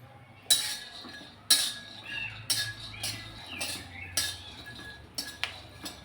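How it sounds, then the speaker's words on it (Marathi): Metal scraping and clinking against an iron pan at regular intervals, a stirring spatula rattling through peanuts dry roasting over low heat, moderately loud and close. "मंद आचेवरती शेंगदाणे भाजून घ्यायचेत, म्हणजे चांगले कडक होतात"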